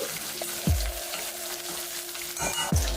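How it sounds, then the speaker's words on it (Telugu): Chopped onions fry in a pan for Punjabi-style palak paneer, a continuous close sizzle broken by a few sharp scraping knocks of a spoon stirring against the pan, with no voices. "అందుకని ఆనియన్స్ మాత్రం మంచిగా ఫ్రై చేసుకోవాలి."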